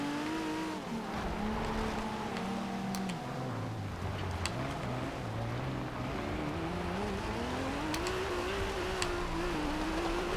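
A 1995 Toyota Supra RZ in Forza Horizon 2 chirps its tires with wheel spin over a steady, loud engine drone that rises and falls with revs, with sharp, brief squeaks scattered throughout.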